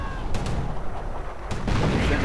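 Artillery fire against German lines in a World War II strategy game, a few dull booms and sharp reports under a dense rumble of continuous battle noise, with scattered louder hits toward the end.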